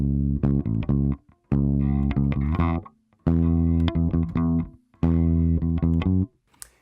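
Bass guitar plays a rhythmic 60s-style bass line, solo and close, with phrases of quick plucked notes separated by short pauses, repeating a distinctive figure.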